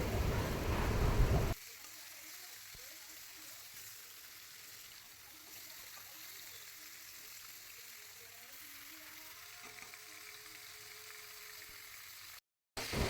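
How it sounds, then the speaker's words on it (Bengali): Chicken pieces fry with onions in a pan, making a faint, steady sizzle and crackle close up after a brief louder opening burst. "তো চিকেনগুলো মিশিয়ে নেব ভালোভাবে পেঁয়াজের সাথে, এবং মাংসটাকে কিন্তু আমি একটু ভাজা ভাজা করে নেব।"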